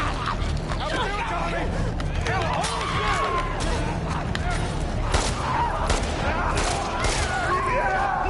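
Rapid bursts of gunfire in The Last of Us Part 2 PS5 Remastered, dense and loud throughout, mixed with game noise and players talking over the shooting.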